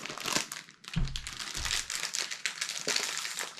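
Individually wrapped Super Mario milk chocolate from a Japanese snack box being unwrapped, with close, crisp crinkling and rustling of the wrapper in quick bursts, and no talking.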